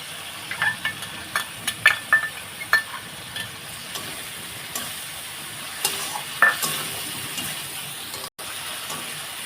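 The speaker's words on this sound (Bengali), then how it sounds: "একটু ভালোভাবে কষিয়ে নেব আদা জিরে বাটা আছে এটা দিয়ে দেবো" Ginger-cumin paste frying in a pan, a steady soft sizzle broken by repeated scraping clicks of stirring, close and continuous with no talking.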